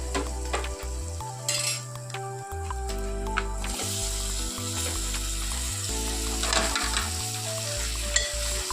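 Mutton pieces sizzle and fry in a pan for Telangana-style mutton curry, with steady close stirring and scraping throughout, a continuous loud sizzle under the utensil strokes and no talk.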